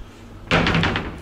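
A hotel room wardrobe door in a Sharm el-Sheikh resort swings with a sudden close thump and a few rattling knocks after it, near and fairly loud in a quiet room.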